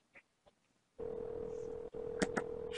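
A telephone keypad tone sounds once as a steady electronic beep during an automated phone menu, following a few faint clicks, with brief extra tone bursts near the end.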